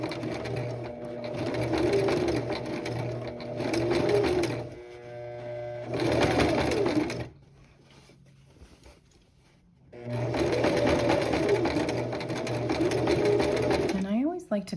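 A sewing machine stitches bias tape around a shirt neckline in two long runs with a pause between, its steady motor hum loud and close, and a person talks over the stitching.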